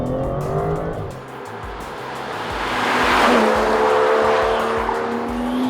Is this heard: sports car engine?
yes